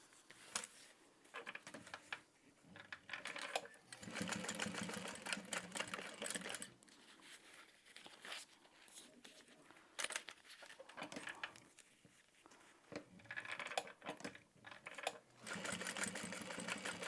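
A sewing machine top stitches through the exterior and lining of a canvas mini bag, fast rattling bursts of stitching broken by brief stops, close and clear with no talk.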